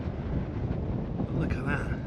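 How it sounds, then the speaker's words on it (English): Strong wind buffets the microphone outdoors at a campsite on a high roof in North Norfolk. The roar is steady and broadband across the whole clip, and no voices are heard. "It's too windy."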